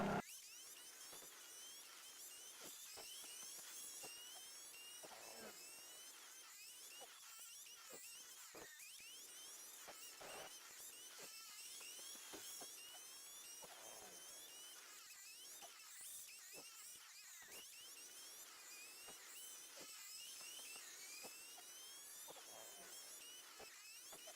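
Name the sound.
sped-up car engine in racing game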